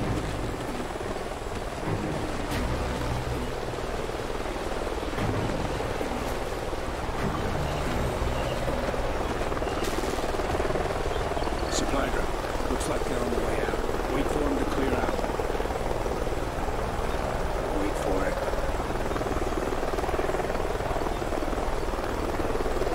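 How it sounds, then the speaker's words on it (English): A helicopter flies nearby in the video game Call of Duty: Ghosts. Its steady, loud rotor roar fills the whole stretch with a constant wash of engine and blade noise. Brief clicks and rustles sit on top. "Sounds like a chopper's up ahead of us."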